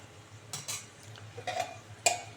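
A metal lid is set on a cooking pot of cauliflower curry: a few light, close clinks and scrapes of metal on metal in a quiet kitchen, with the last clink the sharpest.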